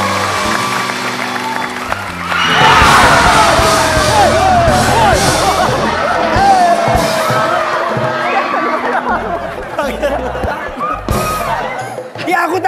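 An audience applauds and cheers for a band on a live television comedy show, a loud, sustained wash of clapping, whoops and crowd shouting that swells up early and carries on with voices mixed in.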